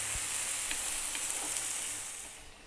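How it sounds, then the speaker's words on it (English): Eggplant tomato pasta sauce simmering in a pan, a steady bright sizzle and bubbling with a few soft stirring scrapes, fading slightly toward the end with no voices. "Give it a stir every now and then."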